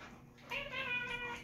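A cat meows in a drawn-out, tonal cry that rises partway through and holds for about a second, close by against a quiet room.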